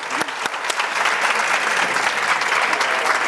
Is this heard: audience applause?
yes